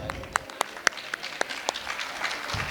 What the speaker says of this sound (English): So we can have a big round of applause for Cinemal Joseph.